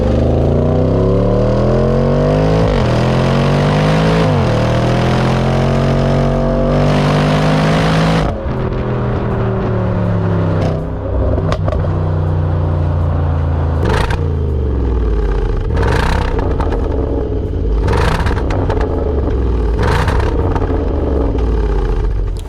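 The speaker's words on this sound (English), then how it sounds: "when you turn the sports exhaust on, I mean, this thing is loud, you know, it's brash, you know, it sort of crackles, it pops" A car with its sports exhaust switched on, revving hard and loud with rising and falling engine notes, then sharp crackles and pops bursting out between throttle blips, close by and alone.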